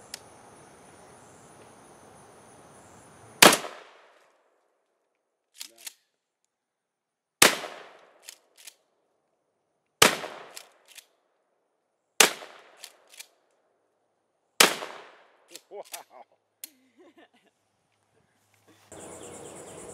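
Loud shotgun blasts from a Remington 870 fired outdoors, six sharp reports spaced a few seconds apart, each with a short decaying tail, with faint clicks of the action between shots and background noise before the first.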